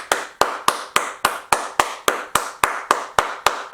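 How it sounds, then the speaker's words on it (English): Slow, steady solo hand claps, about thirteen sharp, evenly spaced claps close to the microphone, with no crowd or talking. "round of applause, guys"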